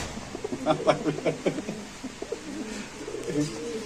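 Sirazi pigeons at a pigeon market coo in soft, repeated low rounded calls, several birds overlapping close by over a steady background murmur.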